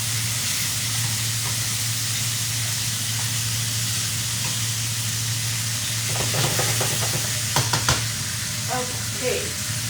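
Chicken fries in a pan with a steady, loud sizzle and hiss, and a few stirring scrapes and clatters come near the end.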